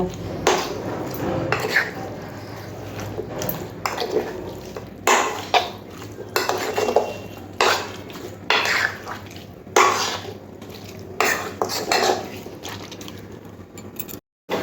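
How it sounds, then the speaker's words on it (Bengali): Raw chicken being mixed and rubbed by hand with salt and spices for a chicken curry, giving repeated moist squelching and slapping bursts in an uneven rhythm, close by, with a faint steady hum underneath. "নুন আর সমস্ত কিছু খুব ভালো করে চিকেনের সাথে মাখিয়ে নেব"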